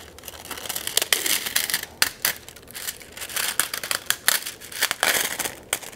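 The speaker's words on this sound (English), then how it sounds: "So depending on the design you're using. And so I just peel it off." Deco foil peeled off adhesive tape makes a close, continuous crinkling and crackling, with sharp tearing snaps and papery rustles repeating irregularly throughout.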